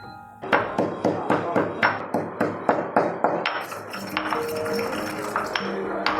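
Ajwain (carom seeds) being pounded with salt in a kitchen: a steady run of about a dozen sharp, ringing strikes, close and fairly loud, then a softer scraping crush with a faint metallic ring.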